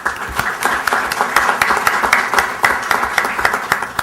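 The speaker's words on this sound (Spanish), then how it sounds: "Acompáñenme a recibir a la doctora Leville con un fuerte aplauso." An audience at an evening book presentation claps steadily, a dense, continuous patter of many hands that stays loud throughout the clip.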